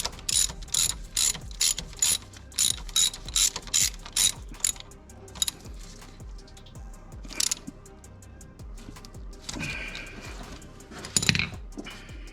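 Ratchet clicking in quick bursts while a sensor is tightened down, close and crisp, with a long run of even strokes at first and then sparser, scattered clicks and a few softer mechanical handling noises.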